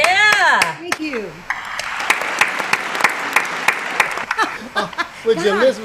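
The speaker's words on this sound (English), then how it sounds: "Did you listen to that applause? The roar of the crowd." Audience applause after a song at a livestreamed folk music performance: scattered hand claps and light laughter mixed with voices talking over it.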